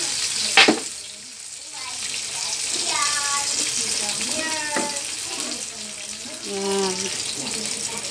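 Water splashes into a pan of frying chicken fillet à la king, a broad sizzling hiss with tap-like running and a sharp splash near the start, heard close up with a brief spoken word.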